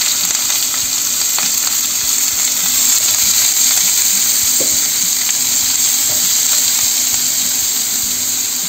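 Saffron chicken and onions fry steadily in a pan, a dense, continuous sizzle with occasional small clinks and stirring scrapes, close and fairly loud, with no talking.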